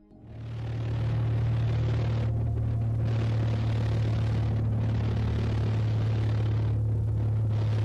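A small plane flying, its engine giving a steady low droning rumble that holds close and loud without letup, with no voices.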